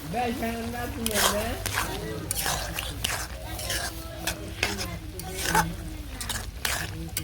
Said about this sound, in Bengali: এই যে আদা বাটা এখন মিশিয়ে নেই তারপরে নামিয়ে নিব